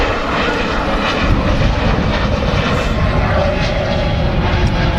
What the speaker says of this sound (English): It's Turkish Airlines flight 1994 back off to Istanbul on board the A321 Neo today